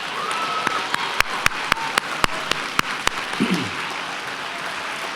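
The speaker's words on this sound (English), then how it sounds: "Let's give them another round of applause." Audience applause at a community celebration of Martin Luther King Jr. held by Seattle Colleges, a steady wash of clapping over about five seconds with several sharp, louder claps standing out near the front.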